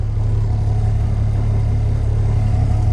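A 2012 Kenworth T800 truck with a Cummins ISM 425 diesel and nearly 800,000 miles idles steadily, a loud, continuous low rumble with a faint clatter, heard alone with no talk.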